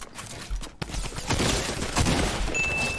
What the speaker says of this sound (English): we are crushing it with this drum gun